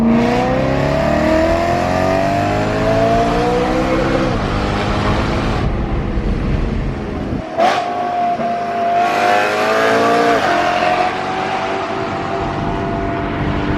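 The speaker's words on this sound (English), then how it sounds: "the cool part about a supercharger is you keep that incredible naturally aspirated V8 noise" A loud supercharged V8 in a 600 hp E92 BMW M3 roars and revs hard through rising gear pulls, with a brief drop between shifts and a whining, throaty note up close.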